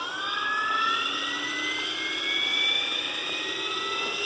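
A Diabolo 600 RC helicopter in flight gives a steady high whine from its drivetrain, with layered tones slowly rising in pitch, continuous and moderately loud with no voices.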